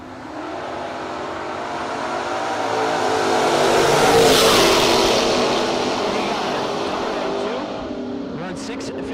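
Two drag race cars run side by side at a no-box drag event, a loud engine roar that builds as they pass near, peaks, then fades into the distance.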